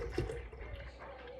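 Regular milk is poured into a blender jar, a steady close liquid gurgle and splash running throughout at a soft, even level.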